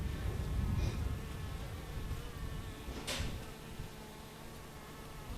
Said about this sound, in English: We had a swarm move into this tote full of waxed foundation